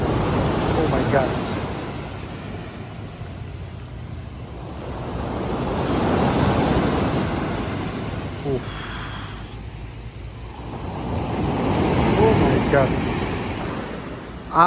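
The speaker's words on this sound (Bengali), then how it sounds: "বড় বড় পানি বাড়তেছে আর কি।" Ocean surf at Teluk Bahang Beach in Penang, Malaysia, swelling and breaking in slow surges a few seconds apart, with steady wind buffeting the microphone throughout.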